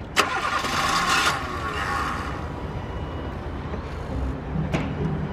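A car engine being cranked and started, an opening mechanical whir and catch followed by a rough rumbling run, then a sharp click near the end, close by with faint background noise.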